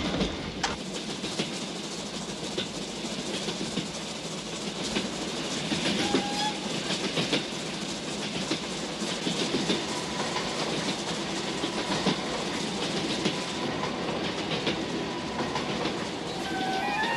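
A train running on rails in a 1979 film gives a steady, continuous rumble and clatter that fills the whole stretch at an even level, with no voices.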